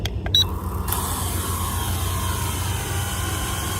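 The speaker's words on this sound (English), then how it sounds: "All right, 1-button takeoff," A Velcase camera drone lifts off with one-button takeoff outdoors, beginning with a few clicks and a short beep before its rotors settle into a steady, close buzzing whir.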